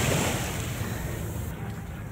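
Gentle surf washing onto a calm beach with no big waves, a steady broadband wash with some wind noise on the microphone, close and continuous without speech.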